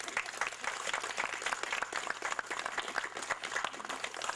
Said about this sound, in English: They get another round of applause.